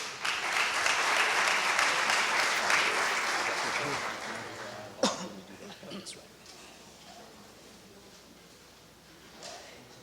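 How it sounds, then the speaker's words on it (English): Audience applause at a youth panel event on graduation rates for boys of color, a dense crackle of clapping filling the room for about five seconds before tapering off, with a few scattered claps and murmurs trailing after. "let's give another round of applause for Brother Daniel"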